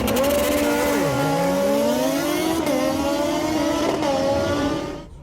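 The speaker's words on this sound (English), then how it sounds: "you're from clutch in on the two-step, which has got a really distinctive sound" A ZZR 1100 (ZX-11) drag bike engine held on a two-step launch limiter drones loud and close for about five seconds, its pitch dipping and climbing with brief stutters, then fading at the end.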